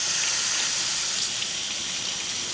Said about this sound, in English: we're going to wait for water to flow out